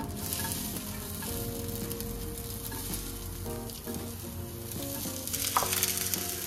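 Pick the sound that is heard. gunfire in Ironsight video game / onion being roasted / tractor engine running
onion being roasted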